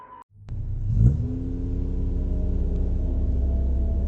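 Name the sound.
car driving on a deserted road, story sound effect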